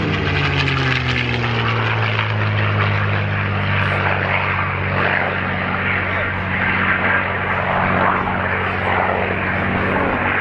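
A P-51D fighter with a Packard Merlin engine flies at the Cosford airshow, its loud, steady engine roar droning continuously with a voice talking over it.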